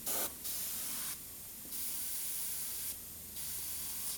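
An airbrush sprays thinned paint onto a dragon artwork. Four close hissing bursts are separated by short pauses, with nothing else heard.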